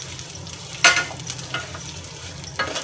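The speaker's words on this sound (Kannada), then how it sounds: "ಆಮೇಲೆ ಚೆನ್ನಾಗಿ ಅಳ್ಳಾಡಿಸ್ಬೇಕು. ಅಳ್ಳಾಡ್ಸ್ ಚೆನ್ನಾಗಿ ಫ್ರೈ ಆಗಬೇಕು." Cashews and raisins stirred and fried in a pan for vermicelli payasa, with a soft continuous sizzle broken by a few sharp scraping and clinking strokes of the spoon against the metal.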